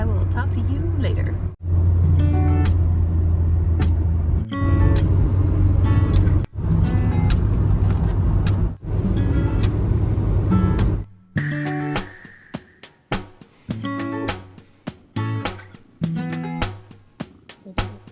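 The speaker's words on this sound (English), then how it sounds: "I'm going to keep driving now" Steady low road rumble from inside a moving car for about eleven seconds, then the drive noise drops away to quieter clicks and knocks; no speech is heard.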